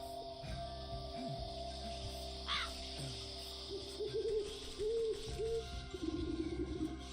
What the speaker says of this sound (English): translating the owl's hoots into something more understandable